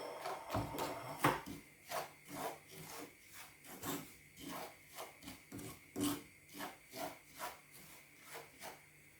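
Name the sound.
semolina (rava) being dry-roasted and stirred in a pan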